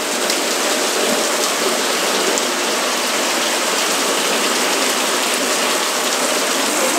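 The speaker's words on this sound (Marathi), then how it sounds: "पाऊस जोरात चालू आहे" Heavy monsoon rain pours down steadily in a Konkan village, a dense, continuous hiss of drops hammering surfaces close by with no pauses, alone and without talk.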